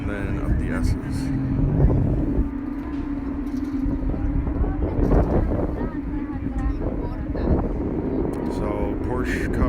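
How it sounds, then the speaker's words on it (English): Porsche GT3 Cup race cars roaring past at a distance on their warm-up lap at Watkins Glen, a steady engine drone with passing swells and wind buffeting, while a person talks nearby. "So Porsche Cup is doing their warm-up lap."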